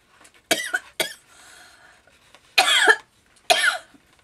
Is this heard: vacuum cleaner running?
no